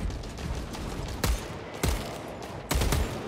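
Gunfire from a gun in the Warhammer 40K: Space Marine 2 video game, with a steady rattle of shots and three louder, heavier blasts standing out near and loud.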